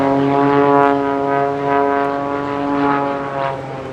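A Pitts S2S biplane performing snap rolls at the English Riviera Airshow with its jet engine off drones steadily overhead. The piston engine and propeller hum with a rich harmonic tone that swells and fades slightly as the aircraft maneuvers.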